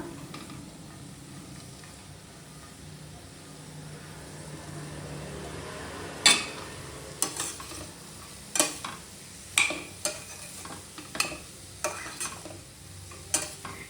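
Finely chopped cluster beans go into a pan of tempered spices for a Karnataka-style palya, a faint sizzle at first, then a run of sharp scraping clinks from stirring at an uneven, unhurried rhythm.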